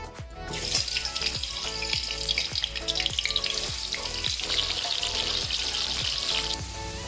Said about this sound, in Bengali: আলুগুলো ভাজা হয়ে গেছে, এবারে তুলে নেব